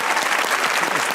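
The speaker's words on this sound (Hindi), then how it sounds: "तालियां होनी चाहिए" Brief burst of dense audience applause for a singer on a comedy talk show, steady and fairly loud for about a second.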